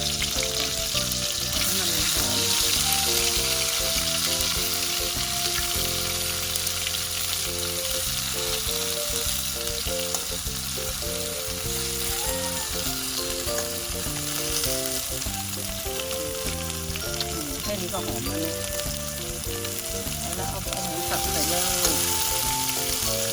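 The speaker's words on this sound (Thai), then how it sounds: "มาผัดกับน้ำมันให้มันหอมๆก่อนนะทุกคนนะ" Fermented bamboo shoots stir-frying in hot oil in a northern Thai dish, giving a loud, steady sizzle with scraping and stirring throughout, no talk over it.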